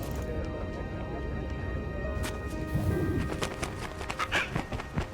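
Cooing bird in a video game, soft repeated coos over a dense, low ambient background, with a few sharp clatters and scattered clicks late in the scene.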